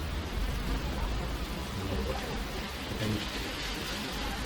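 Heavy monsoon rain falls as a dense, steady wash of noise, loud and continuous throughout, with no clear voices.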